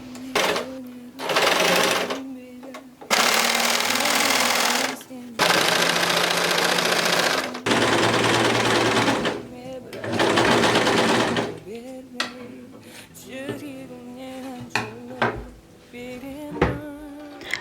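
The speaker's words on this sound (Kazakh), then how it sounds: "Асханамның перделерін тігіп тастайын." A sewing machine stitches kitchen curtains, whirring in several bursts of a few seconds each, separated by pauses where a voice and handling noises come through.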